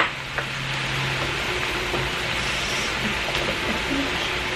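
Taco filling with spices and onions sizzles and crackles steadily in a pan, a close, continuous frying hiss with faint stirring clicks.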